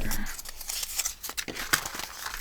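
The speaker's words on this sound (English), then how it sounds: "I need to cut that off" Scissors cut paper away from a watercolor journal page, up close, in quick crisp snips and rustles over a short burst, with no talking.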